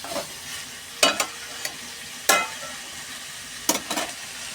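Cumin, chilli and turmeric stir-fried in a pan make a soft sizzle, broken by several sharp scrapes and clatters of a spoon against the pan at irregular intervals.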